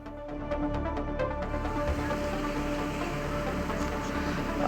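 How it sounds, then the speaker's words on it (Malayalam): Rain falls steadily in Ernakulam, Kerala, a continuous even patter on surfaces with no breaks and no clear voices over it. "മഴയുടെ ശക്തിക്ക് കുറവുണ്ടെങ്കിലും മഴ ഇപ്പോഴും തുടരുക തന്നെയാണ്"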